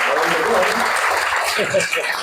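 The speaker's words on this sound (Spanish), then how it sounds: "a quien también vamos a aplaudir" An audience at a lecture event applauds in a steady, dense wash of clapping that holds at full level throughout, with a voice talking over it.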